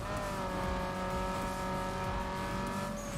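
Race car engine roaring at steady high revs in Need For Speed Underground 2, a continuous buzzing drone with faint tire noise, sustained and alone.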